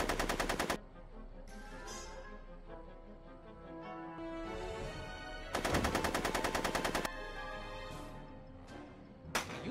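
Bursts of rapid gunfire ring out in a tense film scene, a long rattling volley opening, another heavy burst midway and a short blast at the end, with dialogue-free stretches of background music between.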